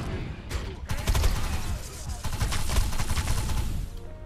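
Rapid gunfire from a weapon in the shooter game Defiance, a dense volley of sharp cracking shots in bursts, loud and close, with brief pauses between strings of fire.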